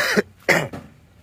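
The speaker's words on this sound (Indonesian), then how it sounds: "Maaf teman-teman saya sambil batuk." A person coughs twice in quick succession, close and fairly loud, followed by a softer throat-clearing exhale and quiet.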